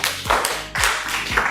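Clapping in an Indonesian geography classroom: a few distinct, close claps or taps land in a loose rhythm about half a second apart, with a soft room hiss between them and no voices.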